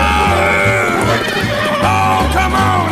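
A voice imitates a horse whinny in a podcast bumper, a loud, wavering bleat-like cry with pitch sweeps that runs continuously for about three seconds, with no other talk.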